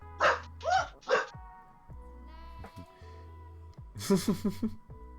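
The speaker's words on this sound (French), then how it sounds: "ah vous avez entendu, le chien Bah, Pépone!" A few gruff barks from an English bulldog, two clusters separated by a quieter stretch, close and moderately loud, with a low hum underneath.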